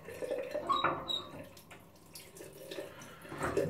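A razor blade rinsed under a running tap, with irregular splashing and gurgling water, brief squeaks and metallic clinks, close and moderately quiet.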